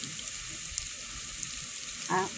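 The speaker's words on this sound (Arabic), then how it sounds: "اول حاجه كندير البصله تشحر، نديرها مع شويه الزيت، شويه الزبده" Chopped onion frying in a pan with a little oil and butter gives a steady, soft hiss of sizzling, with a brief stir or clink near the end.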